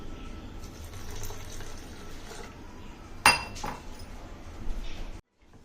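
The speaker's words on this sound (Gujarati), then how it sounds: "થોડું પાણી એડ કરીશું." Water poured into a blender jar for a watermelon mint cooler, a trickling flow with a sharp clink of glass partway through and some faint voices in the background.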